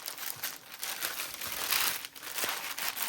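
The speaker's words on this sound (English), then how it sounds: "can you hear that crinkle?" Coffee-dyed paper pack crinkling and rustling steadily for about three seconds, close and fairly quiet, with bursts of crackly handling throughout and no talk over it.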